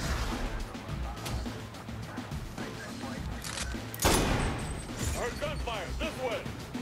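Pistol gunfire in the video game Saints Row The Third, rapid shots and crashes in a busy game mix, with someone talking over the action.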